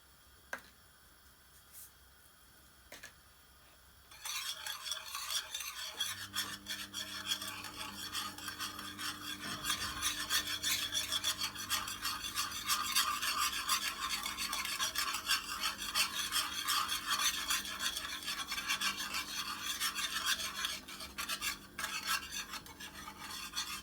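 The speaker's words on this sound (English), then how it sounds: "heat a pan and add the sugar, coconut powder and keep stirring until the powder just starts to brown" Sugar and coconut powder are stirred in a hot pan: a quiet opening with a few taps, then about twenty seconds of continuous scraping and rasping of the spoon against the pan, close and fairly loud.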